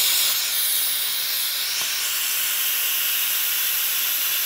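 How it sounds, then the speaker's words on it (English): Steam vents in a loud, steady hiss as an Instant Pot is quick released after cooking Mongolian beef and rice, holding nearly constant for about four seconds before cutting off abruptly. "I'm just gonna use my handy dandy spurtle here to knock some of this steam off."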